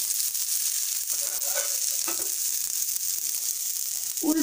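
Bengali rice flour pitha (chaler chhilla rice cake) fries in oil with a steady, soft hiss of sizzling and a few faint scraping touches near the end.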